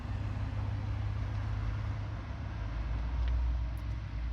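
A truck drives away outdoors, its low engine rumble and road noise steady and moderately loud, swelling slightly before fading a little near the end, with no talking.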